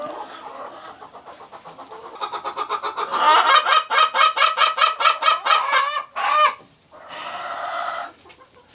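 A loud backyard hen clucks in a rapid rhythmic series that builds into a harsh, squawking call, pauses, then starts again, close to the listener in a winter chicken coop.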